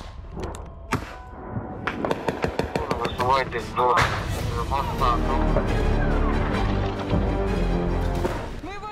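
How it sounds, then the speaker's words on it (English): Tank fire and gunfire in a battle at positions held by Ukraine's 47th brigade: heavy thuds and crashes, a cluster of sharp reports near the start and then a sustained loud roar, with voices talking through it. "Tanks are shooting at us."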